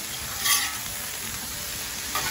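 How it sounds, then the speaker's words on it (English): Shrimp and vegetables with garlic sizzle on a Blackstone griddle, a close, steady hiss broken by a couple of quick spatula scrapes as the food is stirred around, with no voices. "just stir this around a bit"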